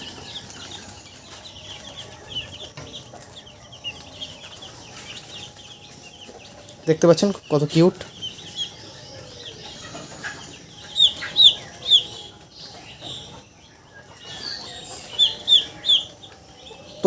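A broiler chick held in a hand at a small poultry farm gives several faint, high peeping chirps scattered through the clip, with a short burst of handling noise partway in and a voice talking over it.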